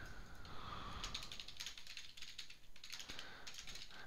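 Keystrokes on a computer keyboard while writing a message subject in Microsoft Outlook, a steady patter of quick clicks close up over a faint background hiss.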